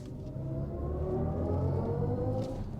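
A 2025 BMW i5 eDrive40's low, steady hum and road rumble come from inside the cabin, smooth and continuous with a faint electric whine.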